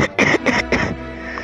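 Three loud, close coughs in quick succession, harsh and throaty, from a character in the game Chicken Gun, followed by a short quiet tail.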